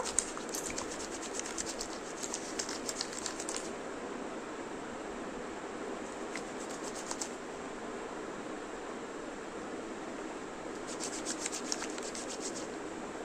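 Wet hands rub together over homemade soap paper in a soft, continuous close-up friction, with brief brighter bursts of squeaky lathering in three spells.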